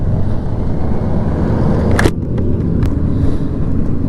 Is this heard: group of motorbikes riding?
yes